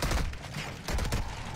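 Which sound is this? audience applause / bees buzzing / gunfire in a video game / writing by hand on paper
gunfire in a video game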